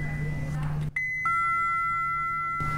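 Aboard the Sky Princess cruise ship, a lift gives its downward-travel chime, a two-note ding-dong with the lower second tone sustaining, close and clear over a steady low hum from the ship.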